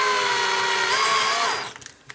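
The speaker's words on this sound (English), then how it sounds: "run the drill bit like that." A power drill bit spins into plastic tubing on a desk while building a toy lightsaber, a loud, steady whine that shifts pitch slightly, then cuts off and winds down, followed by small knocks.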